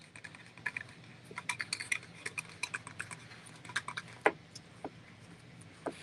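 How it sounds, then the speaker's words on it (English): A knife cuts holes around the edges of a thrift store birdhouse, making a sparse, irregular series of faint, close clicks and small crackles. "I'm just going to use my knife. And I'm just sort of cutting around."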